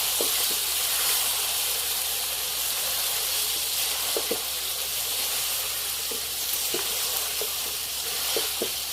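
Village-style country chicken curry simmering on low heat in a pot, a steady close hiss and bubbling sizzle with occasional faint taps from stirring, continuous throughout with no voice.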